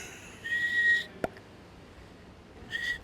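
Two short, thin whistle tones sound a couple of seconds apart against quiet background, with a brief sharp click between them.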